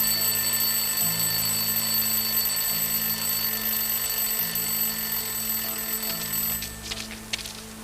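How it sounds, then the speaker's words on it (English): An alarm clock left in a rubbish bin rings steadily in a video game, a continuous electronic ringing tone over a low pulsing game background for most of the stretch before fading into other game sounds near the end. "I'll place the alarm clock in the rubbish bin. Let's see what happens when it goes off."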